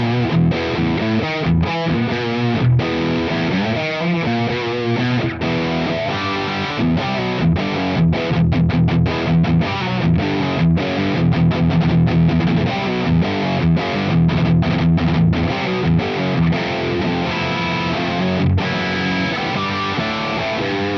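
Heavily distorted electric guitar played through a high-output humbucker (Cloud 9 pickup) into a Mesa Boogie amp capture for ToneX, dense chugging riffs with sharp palm-muted stops, loud and continuous with no voices.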